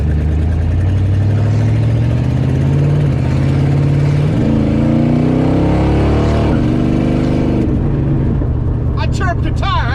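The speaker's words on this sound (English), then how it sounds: "I chirped a tire." A 1968 Dodge Charger R/T with a 727 transmission idles loudly close by, then revs up in rising surges. A brief squeal near the end may be a tire chirp.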